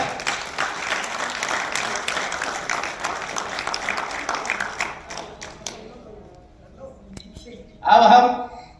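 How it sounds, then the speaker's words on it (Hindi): Audience applause at a kavi sammelan poetry recitation event, dense broadband clapping sustained for several seconds, fading out, then a short loud burst of clapping near the end. "उनका जोरदार ताली हो जाए।"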